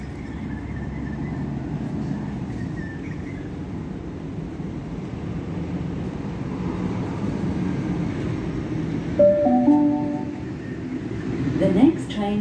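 A Sydney Trains Waratah A18 electric train arriving at and departing Blacktown station, a steady rumble of rolling wheels and traction hum with brief tonal whines and squeals near the end, over platform ambience with station announcements.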